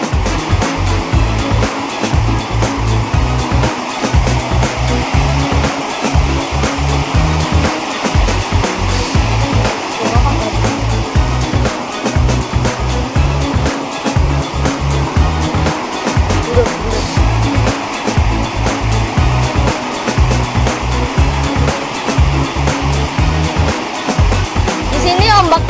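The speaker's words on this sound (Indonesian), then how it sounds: "Jadi anginnya dari arah barat, timur, utara, selatan ribut pemirsa." Strong, constant roaring wind buffets the microphone at Batu Karas beach at night, a loud broadband rush that never lets up, with someone talking throughout.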